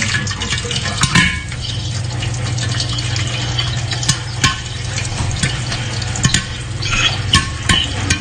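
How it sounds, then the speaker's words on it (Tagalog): Butter melts and sizzles in a hot pan, a steady close frying hiss broken by several sharp clinks and scrapes of a utensil stirring against the pan, with no voices. "nagme-melt na po ang butter natin"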